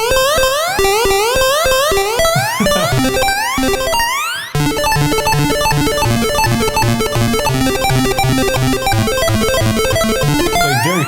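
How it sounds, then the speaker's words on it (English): Plogue Chipsounds 'Jump Up' effect plays 8-bit, Mario-like rising jump blips, first as separate stabs, then as a dense, continuous chiptune melody with bass, loud and alone. "It's called, what is it, Jump Up, and it sounds like Mario's jumping, but you can make melodies out of it"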